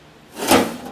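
A drawer in a metal welding table slides open or shut with one smooth, close scrape that swells in the middle and fades out, with no talking.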